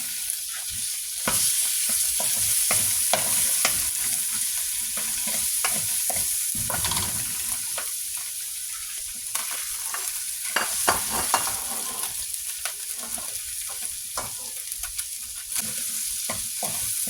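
Butter sizzles steadily in a hot pan with garlic for molo strip carbonara, with a spoon stirring and scraping in an irregular rhythm close by throughout.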